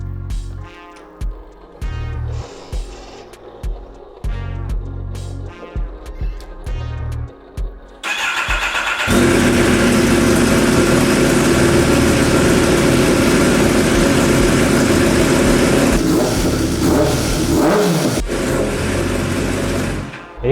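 A superbike motorcycle engine starts at a showroom in Sri Lanka and settles into a loud, steady idle, with a few throttle blips near the end; brief speech comes before the start.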